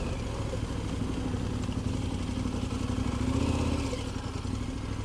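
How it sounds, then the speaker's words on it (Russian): Motorcycle engine labouring steadily as the bike churns through deep, soft mud on a rough track in Mongolia, a continuous close rumble with slight swells in loudness and no voices. "мотоцикл плывет по такой грязюке"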